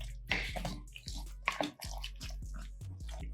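Wet, squishy stirring of an egg mixture into keto mac and cheese with smoked brisket in a pot, with repeated soft squelches and scraping strokes close by, no talking.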